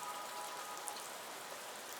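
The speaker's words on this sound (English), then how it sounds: "the last thing I added was this ambience, which is just some rain." Rain ambience sample layered into a lofi music track, a steady soft hiss of rainfall with scattered droplet ticks, continuous and even throughout.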